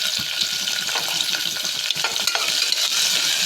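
Onions fry in a hot pan with chillies, curry leaves and garlic, giving a steady loud sizzle broken by frequent scraping stirs, with no voices.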